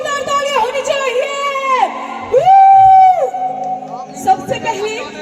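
At a birthday event for a Bhojpuri star, a crowd cheers with loud, drawn-out whoops and yells rising over a busy hubbub, close and energetic, with voices mixed in.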